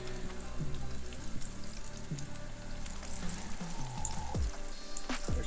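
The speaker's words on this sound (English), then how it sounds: "There's the sizzle." Fresh-caught fish fillets frying in a pan for an ice-fishing shore lunch, giving a steady, close hiss and crackle of sizzling oil that runs continuously without talk.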